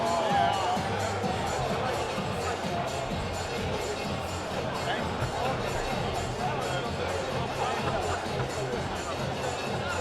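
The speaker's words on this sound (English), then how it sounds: "Big crowd here tonight in at Moat Park." A large crowd fills the arena at a professional boxing match at Moat Park, where Keiron Spice makes his debut against JJ Smith. A dense, steady roar of murmuring voices and chatter holds at an even level throughout.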